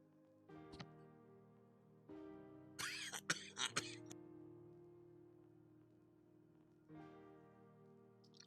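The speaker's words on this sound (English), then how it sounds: "you gotta love it when those coughs come out of the ear" Coughing from X-Plane 12 flight simulator audio, a cluster of several sharp coughs and throat-clearing sounds in the middle of a steady low cockpit hum, with short tonal bursts at the start and end.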